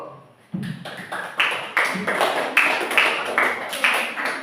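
A seventh-grade class claps hands together in a steady rhythm, a string of sharp, evenly spaced claps that grow slightly louder after a quiet start.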